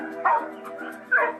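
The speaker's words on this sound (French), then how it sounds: "Il aboie toujours comme ça?" A dog barks in two sharp bursts with a yelping edge, close and loud, separated by a lower whining tone, with a person's voice briefly present.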